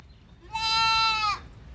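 A white goat for sale at a Thai farm gives one loud, clear bleat lasting under a second, close by, with no talk over it.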